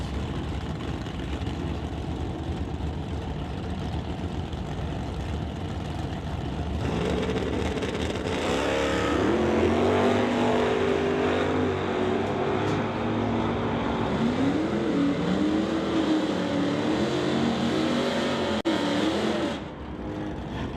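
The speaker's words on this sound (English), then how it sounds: "the orange Acadian, Malfunction Acadian, going to be leaving the start line first as the Camaro slowly gets up to the staging lights" Drag race cars, an orange Acadian and a Camaro, rumble at a drag strip start line with a steady loud engine drone that swells into heavier revving for several seconds before easing off near the end.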